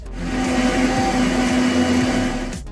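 An electric blender grinds onion, ginger and garlic into a paste for a pork curry, a loud steady motor whir with a sustained hum running almost three seconds before cutting off at the end.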